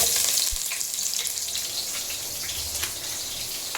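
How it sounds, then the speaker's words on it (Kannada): Onion frying in a pan while sambar is being made, a steady bright sizzle running throughout with a few soft clicks and scrapes, close and fairly loud, no voices. "ಮತ್ತು ಈರುಳ್ಳಿ ಹಾಕ್ತಾಯಿದ್ದೀನಿ."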